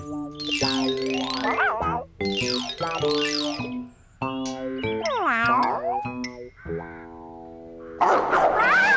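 Cartoon dog barking in the Bob the Builder children's animated show, a run of bright, tonal yaps and howls over music with springy boing effects, loud and close.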